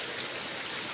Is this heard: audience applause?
no